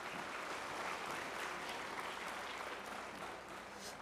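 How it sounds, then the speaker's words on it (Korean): A church congregation at an evening winter camp service gives a choir steady, even applause, heard as a soft continuous wash of many hands clapping at some distance. "다시 한번 우리 합창단을 위해서 박수 한번 부탁드리겠습니다."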